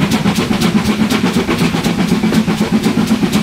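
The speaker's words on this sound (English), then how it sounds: "As you open it more, the exhaust gets louder." Steam locomotive exhaust from a Castle Class engine in a Roblox train game, a loud, steady run of rhythmic chuffs with high and low tones, repeating evenly and close up, with no talking.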